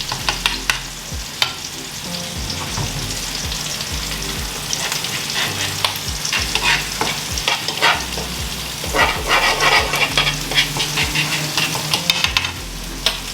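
Garlic and dill fry in oil while being stirred around the pan, a loud, continuous close-up sizzle broken by repeated scraping and clicking from the utensil.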